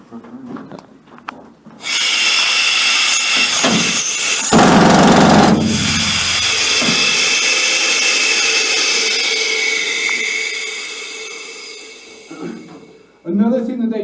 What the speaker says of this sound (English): When I turn this drill on, you'll be able to see this leg do most of the work for me